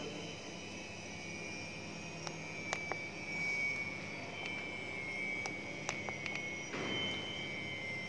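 A CNC wood router runs in a university industrial and production engineering workshop, giving a steady, fairly loud mechanical whine with broadband hiss and a few sharp clicks throughout.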